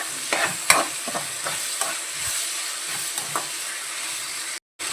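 Curry leaves and fennel sizzle in hot oil for a mutton curry, a steady bright hiss with a few sharp pops and spoon-stirring scrapes, close by, with a brief cut to silence near the end.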